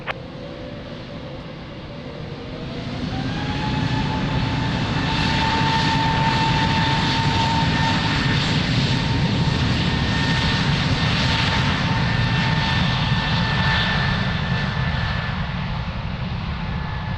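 An airliner takes off from runway 02 at Lisbon Airport, its jet engines spooling up from a low rumble into a sustained loud roar with a rising whine that holds steady through the takeoff roll.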